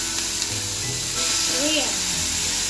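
Butter sizzling on a hot sizzling plate for gambas: a steady, loud hiss and crackle running throughout, close by, with a voice speaking faintly in the background.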